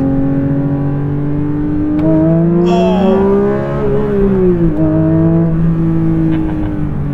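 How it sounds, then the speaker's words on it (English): A 2022 Porsche 911 GT3 engine revs hard and loud from start to finish, its pitch climbing and falling through several steady surges, and one person gasps briefly partway through. "And it is loud because. Oh, very loud."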